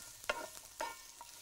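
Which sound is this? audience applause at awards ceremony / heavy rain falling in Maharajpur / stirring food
stirring food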